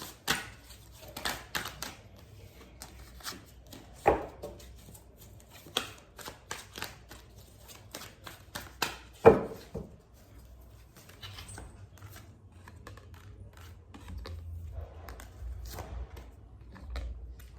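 Tarot cards drawn and shuffled from a deck, a run of soft papery flicks and slaps with a few sharper snaps, close and fairly quiet, with no talk over them.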